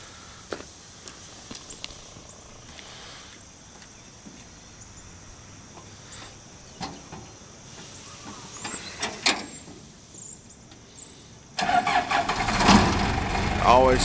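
A Case 1845C skid steer with a Cummins engine cranks and catches, building from quiet clicks and rattles to a loud rough idle near the end, with people talking over it.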